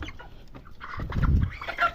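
A chicken gives a few soft, close clucks among light rustling, followed by a louder low thump and scuffle partway through; no voices are heard.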